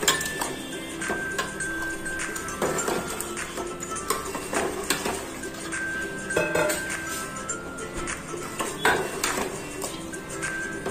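Chicken is stirred into a masala in a metal pan, the spoon scraping and clinking against the pan in a steady irregular rhythm, close and fairly quiet, with no talking.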